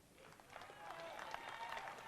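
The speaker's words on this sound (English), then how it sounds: "Once again, a round of applause for your captain, Ethan Faitoa" Applause for the winning team captain at a rugby national under-20s final, a crowd clapping steadily at moderate distance and swelling slightly toward the end, with a faint voice mixed in.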